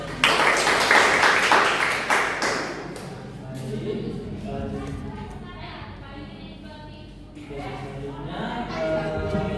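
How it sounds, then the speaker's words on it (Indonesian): Audience applause at a health education demonstration on syphilis, a burst of clapping from a crowd at the start that fades, followed by a voice speaking. "Beri tepuk tangan bagi kita semua."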